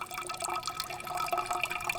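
Filtered water trickles and drips from a Sawyer Mini filter as a water bladder is gently squeezed, giving a continuous close splashing patter with no talk.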